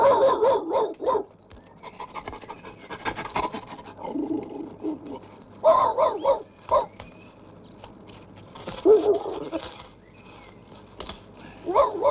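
A dog barks repeatedly in bursts of yips and whimpers at close range, with quiet gaps between the outbursts, set in a 1965 horror film.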